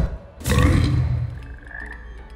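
In the video game Hogwarts Legacy, a frog lets out a single loud, throaty croak close by, followed by a fading tail and quieter ambient game sounds.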